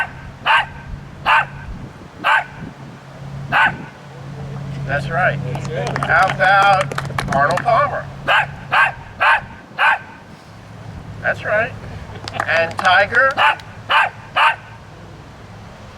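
A dog at a golf club event barks answers to golf trivia questions, giving short clusters of sharp, close barks in a counting rhythm between a man's spoken questions and praise.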